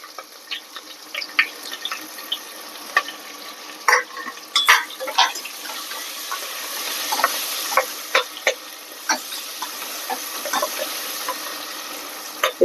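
Onions and curry leaves fry in a pan for an eggplant dish, a steady close sizzle broken by frequent clinks and scrapes of a spoon stirring, with no talking.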